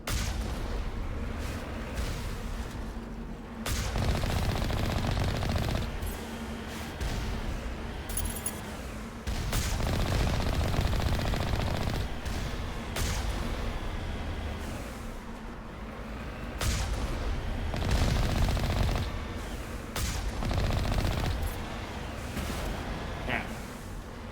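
Relentless sniper fire in a Mass Effect-style sci-fi shooter: repeated sharp gun reports and booms burst out across the whole stretch, loud and dense, with a voice talking over the combat.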